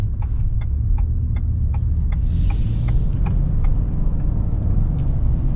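A lifted Ford F-150 rolls over a bumpy road, its steady low cabin rumble and drone filling the interior, while light rhythmic knocks and rattles tick through from the rough surface.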